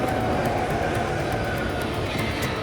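A long, heavy Australian freight train loaded with about 37,000 tonnes rolls past nearby, a loud, steady rumble and roar with faint rhythmic wheel clicks throughout.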